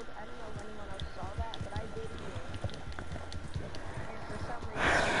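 Horse hooves clip-clop at a steady pace in the Red Dead video game, close and rhythmic, with people talking over the top.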